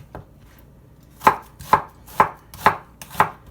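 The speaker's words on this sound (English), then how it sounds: "I've got 2 onions, which I'm just going to chop, just a rough chop" Two onions being rough-chopped with a kitchen knife on a board for potato soup: one faint tap, then five sharp, evenly spaced knife strikes, close and distinct, with no talking.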